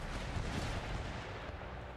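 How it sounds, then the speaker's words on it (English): Foot artillery fires in Empire Total War battle on an Indian western front, a dense continuous rumble of distant cannon booms blending into one another. "Foot artillery just open fire as they please."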